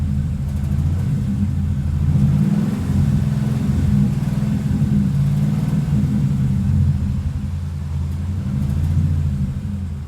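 A Ford Mustang engine runs in a steady low rumble, held at raised revs with a faint tick under the drone, close and continuous with no talk.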